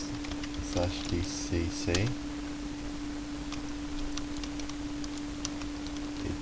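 Quick keystrokes tapped on a computer keyboard while entering a Minecraft command, a short cluster of clicks over a steady background hum, with a voice speaking at the same time.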